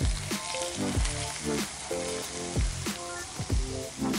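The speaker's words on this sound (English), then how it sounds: "Ah, that sizzle is so satisfying." Hot oil crackles and sizzles loudly over spring onion in quick, pulsing bursts, close up with no talking.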